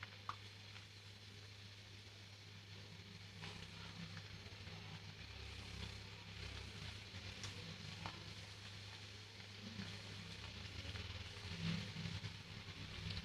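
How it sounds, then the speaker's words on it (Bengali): Dal puri deep-frying in hot oil gives a steady, close sizzle with a low hum underneath that continues evenly throughout, with no talking. "তেল গরম হয়ে গিয়েছে, এখন আমরা এতে পুরিটা দিয়ে দিচ্ছি।"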